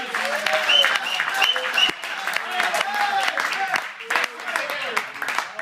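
A church congregation bursts into sustained applause and cheering, dense clapping mixed with voices calling out and a few whistles, loud and close throughout.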